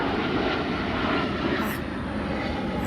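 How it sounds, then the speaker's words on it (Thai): An airplane passes over a house right beside an airport, a loud, steady, broadband roar that fills the whole moment with no let-up. "มีเสียงเครื่องบิน เพราะว่าบ้านติดสนามบินนะคะ"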